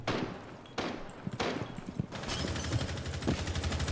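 Gunfire in the tactical shooter game Rainbow Six Siege, with sharp loud bursts and then rapid sustained automatic fire, close and continuous, with no talking.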